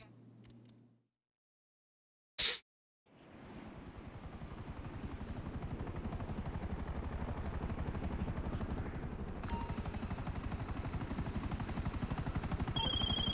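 Buzzard helicopter in GTA Online landing on a helipad: after a brief silence and one sharp burst, a steady rotor thrum rises and holds, getting slightly louder and continuous to the end.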